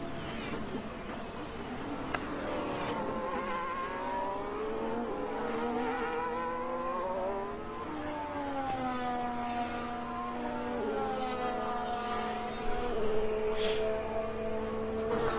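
Formula 1 cars lap the Austin circuit during practice at the 2022 United States Grand Prix, engines whining in rising and falling sweeps as they pass and fade, with faint background noise throughout.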